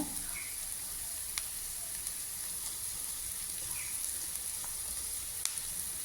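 Chopped garlic and white onion sautéing in hot oil for an egg curry, a steady close hiss of sizzling with a few faint pops and ticks, no talking.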